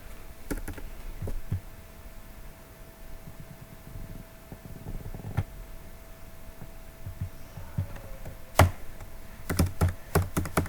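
Typing on a computer keyboard while editing code: scattered light key clicks over a low room hum, sparse at first and then a quicker cluster of taps near the end, close and fairly quiet.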